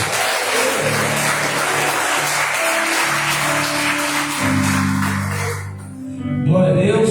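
A church congregation claps for Jesus in a dense, steady wash of applause over sustained musical tones. The applause dips briefly near the end, then swells again.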